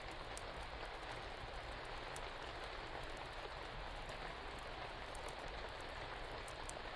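Steady rain falls on a night street, a faint, even hiss of countless drops with a soft patter and no pauses or voices throughout.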